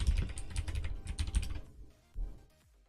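Rapid, uneven typing on a computer keyboard during software coding, dense clatter of keystrokes for a second and a half, then a pause and a short final burst, close and alone.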